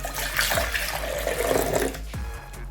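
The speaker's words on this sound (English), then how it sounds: "I'll add in water" Water pours from a tap into a blender jar being cleaned after blending meat, a steady close rushing stream with a couple of low knocks, easing toward the end.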